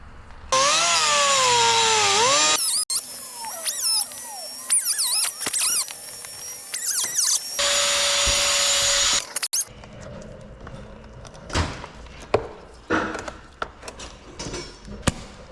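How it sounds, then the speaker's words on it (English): A large cutoff wheel slices through a piece of plastic during a front-mount intercooler install on a 2015–2021 Subaru WRX, giving loud, close, high-pitched grinding whines in long bursts, followed by scattered clattering and handling knocks. "Use a giant cutoff wheel to cut a piece of plastic."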